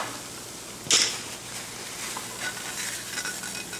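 Eggs cooking in a hot pan on the stove give a steady sizzle and frying crackle, with a sharp burst of hissing near the start, then a continuous close, moderately loud fizz.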